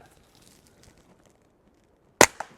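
A Taurus TX22 pistol fires a quiet .22 round outdoors: one sharp, close crack followed a moment later by a fainter impact, with near silence before it.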